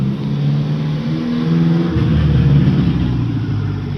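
A homemade vehicle's engine revs loud and close as the throttle opens, its droning pitch climbing, then dropping into a rougher, steady roar.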